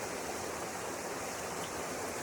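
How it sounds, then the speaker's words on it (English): A trailside waterfall roars as a steady, dense rush of falling water, loud and close and unchanging throughout, with no voices. "This waterfall's very nice, great place to stop."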